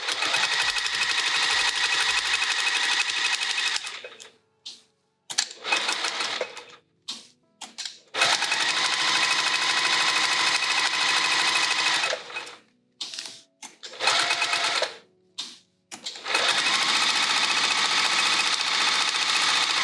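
A sewing machine quilts vinyl with a Microtex needle and Wonderfil thread, running in loud, close bursts of rapid stitching separated by short pauses and brief start-stop spurts.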